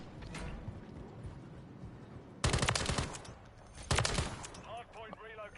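Two loud, close bursts of gunfire ring out in Modern Warfare 3, a sniper-focused online match, cutting through a quieter stretch of game noise and faint background sounds.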